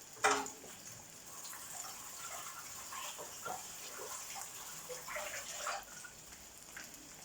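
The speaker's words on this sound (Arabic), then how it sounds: "دابا غادي نغسل خوتي هذه الطابله" Running water splashes steadily over a table being washed before shawarma prep, with a sharp gush at the start and then a fairly faint, even flow and patter for several seconds.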